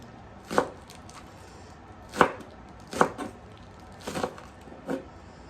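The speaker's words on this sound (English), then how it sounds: "So I'm going to get these chopped up." Green onions chopped with a knife on a cutting board for southern-style chicken cornbread dressing: five crisp, separate knife strikes at uneven intervals, close and clear over a quiet kitchen.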